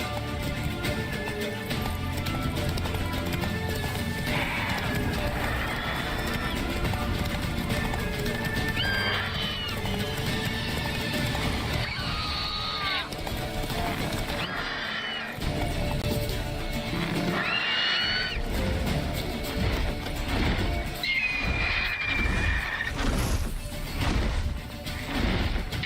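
A horse being urged on, with loud close clip-clop hoofbeats, repeated shrill neighs and whinnies, and occasional crashing thuds, all dense and continuous.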